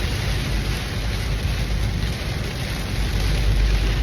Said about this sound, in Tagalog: Kaso ang lakas ng ulan, grabe.